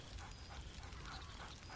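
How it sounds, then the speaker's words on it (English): A companion dog in the video game Baldur's Gate 3 barks merrily, its brief yips sitting inside a dense, steady wash of game ambience. "Scratch barks merrily in something like agreement"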